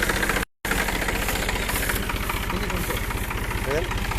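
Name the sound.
New Holland tractor engine idling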